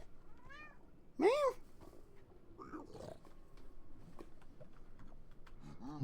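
A Minecraft cat lets out one sharp, clear meow, with faint chirps and soft keyboard clicks scattered through otherwise quiet game sound.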